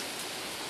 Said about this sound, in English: And it's raining harder too!